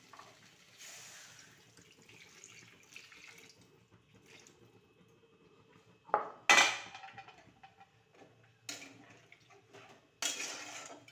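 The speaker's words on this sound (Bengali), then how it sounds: "এবার জল দেবো।" Water poured into a cooking pot in a home kitchen, a few short splashing bursts with quiet gaps between them, and a faint clink of pots or utensils.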